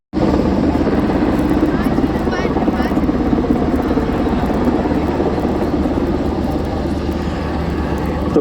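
A Coast Guard helicopter flies over the sea at an air show in Bray, Wicklow, Ireland, its loud, steady rotor and engine roar filling the whole stretch with a slight rhythmic chop.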